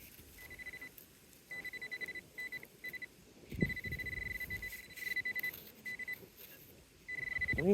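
Metal detector signal tone while sweeping over grass for coins and relics: a steady electronic tone that keeps cutting in and out in uneven, jumpy bursts, with a soft thump partway through.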